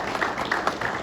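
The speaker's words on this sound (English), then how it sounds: "Let's have a round of applause for them." Applause from the audience at a Duquesne basketball head coach's introductory press conference, a steady wash of clapping from a modest crowd, fairly loud and continuous for the whole short stretch.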